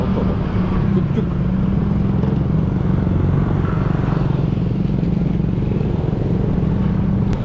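Scooter riding on roads in Bali, a continuous close engine drone with steady road and wind rumble throughout.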